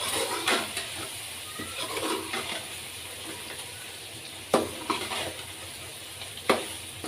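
Bitter gourd curry with salt, chili and spices being stirred in a pan, with soft scraping and a light sizzle throughout and a few sharper clanks of the utensil against the pan near the end.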